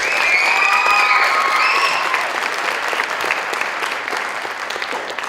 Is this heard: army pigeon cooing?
no